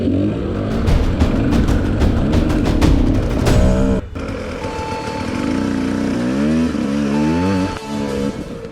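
A motorcycle stuck among rocks in a hole during an off-road event revs loudly and close, its engine surging and dropping in repeated bursts, then idling and climbing again.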